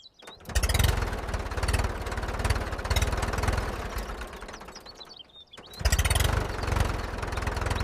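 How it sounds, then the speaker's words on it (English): A new farm tractor's engine runs close by in a village, a loud throbbing idle that drops briefly and then picks up again. There is no talking. "The new tractor is running smoothly."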